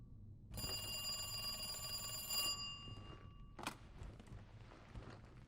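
A telephone rings in the video game Resident Evil 2: a bright electronic ring with sustained tones runs for about two seconds, then a thunk follows against a low ambient game hum.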